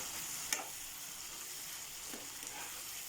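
Ridge gourd curry simmering in a pan on the stove gives a steady, soft sizzling hiss throughout, with a brief click near the start and a faint tap later.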